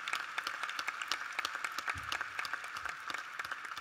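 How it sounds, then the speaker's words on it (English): Audience at a Springfield MLK Day celebration applauding, a sustained patter of many hands clapping at moderate distance, steady for several seconds. "Let's give them a big round of applause."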